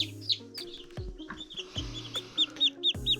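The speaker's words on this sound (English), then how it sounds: "This is a Silky. It's a little smaller than the other chicks." Small Silkie chicks, a bantam breed kept alongside Barnevelder and Wyandotte chicks, give repeated short peeps and soft clucks. The calls come close and fairly loud over faint background handling noise.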